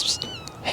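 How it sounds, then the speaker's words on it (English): Feral cat giving a single drawn-out meow, loud and close, rising and falling in pitch through a short outdoor moment. "I did get a feral cat"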